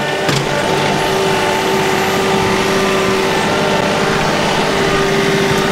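A tractor engine drones steadily and loudly throughout while working a loader, with a constant low hum and hydraulic-like mechanical whine, like heavy machinery working continuously.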